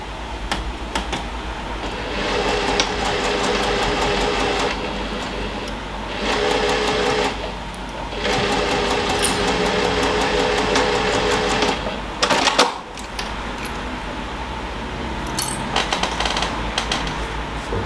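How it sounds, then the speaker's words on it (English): A sewing machine stitches across the box corner of a tote bag, running loud and close in long bursts separated by short pauses, with a brief clatter near the middle. "I'm going to sew across that box corner"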